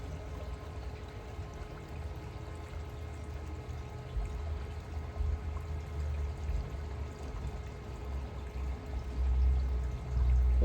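Acid at 31.45% strength is poured slowly into the water of a freshly refinished gunite pool, giving a soft, steady trickling pour under a low outdoor hum that grows a little louder toward the end.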